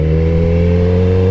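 A 600cc motorcycle engine hums steadily and close, pulling smoothly as the clutch is eased out while the bike rolls, with a slight rise at the very end.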